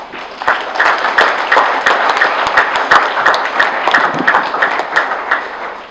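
Audience applause at a government programme presentation in Kisangani, Congo: a dense, steady wash of many hands clapping, loud and sustained for about six seconds with scattered sharper claps and no talk.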